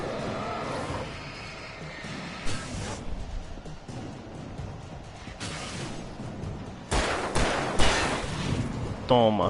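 Bursts of gunfire in the video game Alan Wake Remastered come as several sharp shots spread over a few seconds, mixed with game effects and someone talking excitedly.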